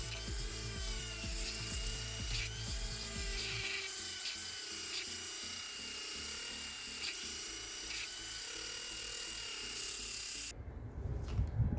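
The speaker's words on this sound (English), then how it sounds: "I have to grind this down so the antenna fits properly" A power tool grinds a notch into the base of a shark fin roof antenna on an Alfa Giulietta, a steady close whine with rhythmic rubbing pulses, ending abruptly.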